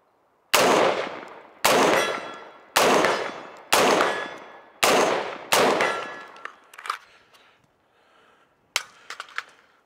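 Five rifle shots fired while testing PMAG magazines at a range, loud sharp cracks spaced about a second apart, each ringing out in a fading echo, followed by faint clinks and a few small metallic clicks.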